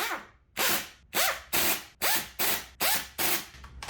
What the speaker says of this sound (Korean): 드라이버로 대각선 방향으로 볼트를 조이시면